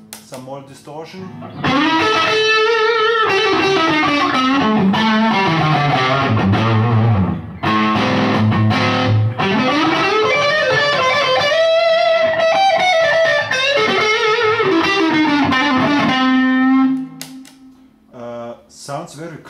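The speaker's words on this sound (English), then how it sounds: "Some more distortion." An electric guitar roars through a Marshall Astoria amp set for heavier distortion, loud and close, with sustained chords and bending lead lines that ring for most of twenty seconds before fading out.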